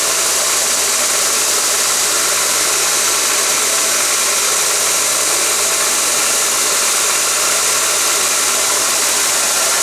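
Homemade 2x48 belt sander running on a test, giving a steady, loud broadband whir with a continuous motor hum throughout and no talking.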